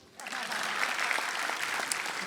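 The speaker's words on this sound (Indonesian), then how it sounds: "Boleh tepuk tangan." An audience applauds at a stand-up comedy show, a dense, steady burst of many hands that starts abruptly and holds at an even level without fading.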